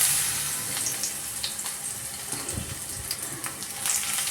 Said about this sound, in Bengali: এই তেলটার মধ্যে যাচ্ছে হচ্ছে শুধু বেগুনটা আলাদাভাবে আপনাদের ফ্রাই করতে হবে।